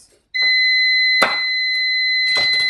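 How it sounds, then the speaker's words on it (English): A kitchen timer beeps with a loud, steady, continuous high-pitched electronic tone while salsa roasts, sounding alone with only light kitchen clatter underneath. "There goes my timer."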